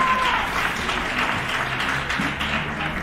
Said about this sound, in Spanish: los aplausos del público.